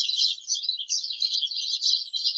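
Loud, high-pitched bird chirping, a rapid unbroken stream of tweets close up with no other sounds.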